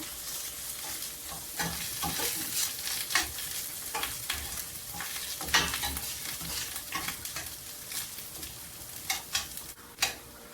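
Tomato and onion fry in oil in a pan for Dawood Pasha kebab sauce, a quiet steady sizzle broken by repeated scraping strokes of a spoon stirring, close by and without talk.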